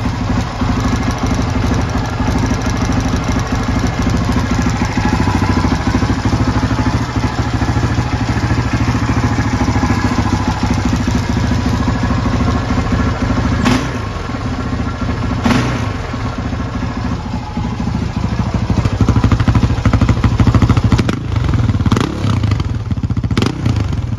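A KTM 640 Adventure motorcycle fitted with an aftermarket exhaust idles steadily and loudly up close, its deep thumping engine note running continuously with occasional clattery ticks throughout.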